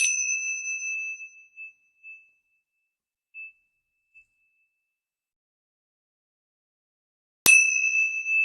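Metallic chimes ring during a tarot reading: one clear bright ding fades over about two seconds, a few soft taps follow, then a long silence before a second sharp chime strike rings out.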